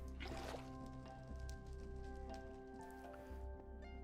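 Water being placed and flowing in Minecraft, a soft sloshing trickle beneath steady, sustained background music tones, with no talking.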